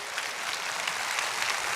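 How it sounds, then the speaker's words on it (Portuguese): Congregation applauding steadily in a church service, a dense even wash of clapping filling the space from start to finish with no voices. "Vamos todos dar um fortíssimo aplauso ao Senhor"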